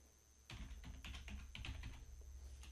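Typing a command on a computer keyboard, a quick run of close, crisp key clicks starting after a short quiet moment and continuing in an uneven rhythm, alone with no voices.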